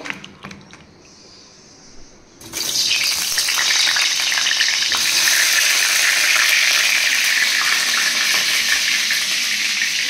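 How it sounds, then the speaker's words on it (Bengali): Potatoes dropped into hot oil in a kadai burst into a loud, steady sizzle that holds for several seconds after a short quiet start, close by with no talking. "তো কড়াই তেল দিয়ে দিয়েছি, আলুগুলোকে ভেজে আগে তুলে নেবো।"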